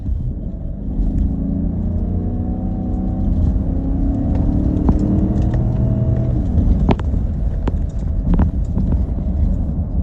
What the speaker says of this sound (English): You definitely hear a little bit of the engine in front of you